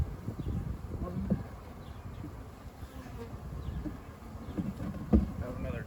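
A honeybee swarm buzzing at the hive, a faint, steady hum of many bees with occasional louder passes close by, under light wind and handling noise.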